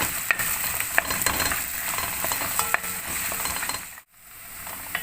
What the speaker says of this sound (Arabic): احنا عايزينه بس ياخد تشويحه كده عشان ريحته تطلع